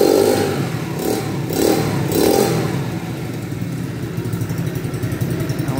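A motorized bicycle's small engine revs up close in three rising surges during the first half, then settles into a steady, rough, clattering idle with no talk over it.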